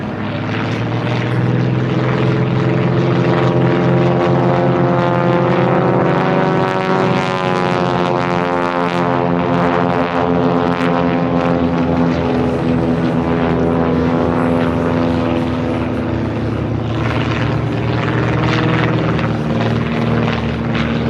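Fokker S-11 propeller trainer aircraft flying in a display, a continuous loud, steady piston-engine drone with droning propeller hum throughout, no talk.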